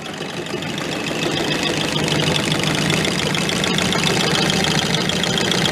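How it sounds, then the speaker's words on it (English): A small outboard engine on a 7-foot boat runs steadily near the mic, its exhaust venting through water and splashing, with a continuous rough, mid-pitched drone that swells slightly after the first second and stays loud with no talking. "Because the exhaust goes out through the water, it still makes it splash."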